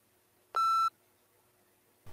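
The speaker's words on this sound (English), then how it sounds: "Begin to prepare your response after the beep." A single clean electronic beep from a TOEFL speaking test prompt, lasting about a third of a second in near silence, followed by a faint sound at the end.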